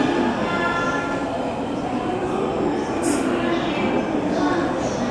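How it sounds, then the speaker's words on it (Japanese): An E657 series limited express train departs Tokyo Station from platform 8, rumbling steadily with a constant low roar and faint mechanical hiss, close and continuous throughout. "8番線列車発車です。"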